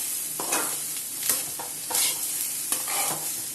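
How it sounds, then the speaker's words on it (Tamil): A spoon stirs egg fried rice seasoned with turmeric and salt in a hot pan. Several scraping strokes sit over a soft background sizzle, close and fairly loud, with no talk. "இப்போ நல்லா கிளறி விட்டுக்கலாம்."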